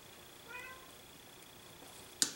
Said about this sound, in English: You can hear Miss Studio Cat in the background wanting attention from me to pet her.